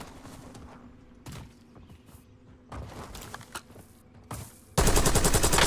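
Bursts of automatic gunfire in a battle royale shooter, scattered short volleys that end in a loud, sustained stretch of rapid fire.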